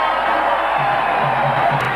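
A packed cricket stadium crowd roars after a six is struck, a steady loud wash of cheering and whoops, with a few sustained horn-like tones rising through it.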